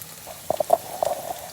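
Hot oil spitting and splashing in a pan of frying potatoes with chorizo, a handful of sharp pops and crackles in quick succession over a low, steady bubbling.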